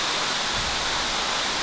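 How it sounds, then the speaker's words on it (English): Waterfall roars as a dense, steady rush of falling water, close and loud with no breaks. "So I made it to the waterfall."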